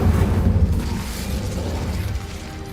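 A loud, rumbling fiery burst from the Incendio fire spell in Hogwarts Legacy, heaviest at the start and then fading into a long, roaring low tail, with no voices over it.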